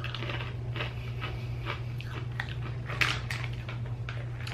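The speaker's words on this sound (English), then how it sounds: "Good crunch, good cheese flavor, not mad at it." A keto cheese cracker snack being crunched and chewed close to the mic: a run of small, crisp crunches at an irregular pace over a steady low hum, with no talking.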